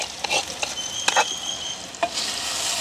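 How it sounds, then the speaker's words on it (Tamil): Elephant foot yam with tomato frying in oil, a soft sizzle broken by several brisk stirring scrapes and clinks of a utensil, with a high whine briefly audible. "கருணக்கிழங்கு இந்த எண்ணெய்க்கு வந்து நல்லா அப்படியே வதங்கி வரணும் எங்களுக்கு."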